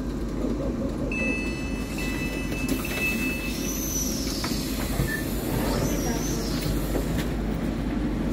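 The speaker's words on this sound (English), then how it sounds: "The train now approaches Terminal 5" A train rumbles steadily through a Manchester station platform, with faint metallic squeals and wheel screeches rising above the low roar and muffled voices nearby.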